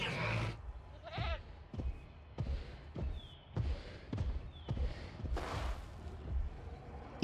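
A goat in the video game Jurassic World Evolution gives a few short bleats, set among repeated low thuds and thumps at a steady, quiet level.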